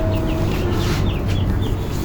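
Broiler chicks about four days old chirping steadily inside a brooding shed, many thin high peeps overlapping over a constant low hum of fans or equipment.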